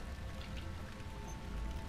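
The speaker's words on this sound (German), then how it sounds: "dass der Regen irgendwie cool aussieht für so ein Half-Life Source Mod-Spiel" Steady rain patters in a Half-Life Source mod horror game, a quiet, continuous hiss of falling drops with no other sound.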